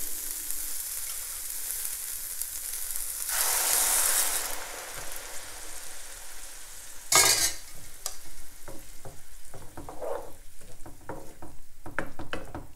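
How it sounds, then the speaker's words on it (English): Toasted risotto rice for mushroom risotto stirred in a pan with broth over the lowest stovetop heat: a gentle continuous simmer with bursts of hissing as broth is poured, then soft scraping spoon strokes, close and fairly quiet. "Let's stir."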